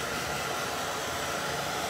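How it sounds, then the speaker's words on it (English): A blow dryer runs steadily at close range, drying freshly painted Christmas yard art ornaments, giving an even, continuous rushing whoosh with no voices over it. "So let me grab our blow dryer and see if we can't get some of these dry."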